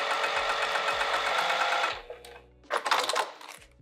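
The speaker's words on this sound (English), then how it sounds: "now I'm gonna move the exterior bag out of the way and sew this side down" A sewing machine stitching a vinyl sling bag runs in a fast steady whir for about two seconds, stops, then gives a short second burst, close and clear with no talking.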